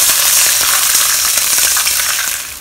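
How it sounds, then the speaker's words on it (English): Garlic and ginger frying in a hot pan as water goes in for a Chinese chicken and broccoli stir-fry, giving a loud, continuous crackling sizzle that fades slightly toward the end, with no talking. "we'll add in 1 cup of water"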